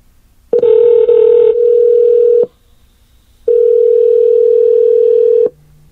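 Outgoing call tones play through a Google Home Max smart speaker: a steady loud ringback tone sounds for about two seconds, pauses, then repeats, with no talking.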